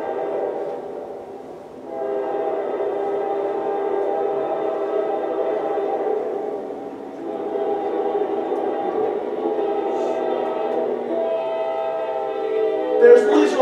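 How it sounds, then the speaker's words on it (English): A freight train of hopper cars bound for the coal mines rolls past with a steady, loud droning rumble and a low tonal hum, continuous for the whole stretch, with a brief sharper burst at the end. "this train, in fact, was going to the western part of the state to go back to the coal mines"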